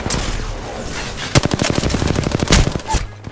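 Rapid automatic gunfire in the Apex Legends video game, a dense burst of close, loud shots in quick succession, followed by a couple of heavier single hits near the end.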